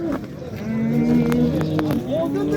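A cow at the livestock market in Baliqchi, Andijan gives a long, loud, sustained moo close by, with scattered market noise and voices around it.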